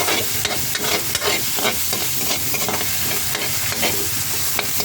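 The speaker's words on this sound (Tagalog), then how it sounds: "magigisa lang po tayo ng repolyo" Cabbage sautéing in a pan makes a continuous crackling sizzle, broken by frequent light scrapes and taps of a stirring utensil.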